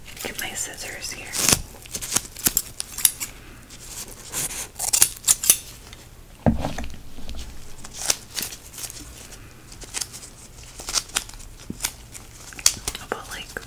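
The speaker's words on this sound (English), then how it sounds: "Scissors here." Scissors snipping medical tape during a nurse's wound-dressing routine, a few crisp close cuts spaced out among soft rustling and handling noises, with quiet whispered speech nearby.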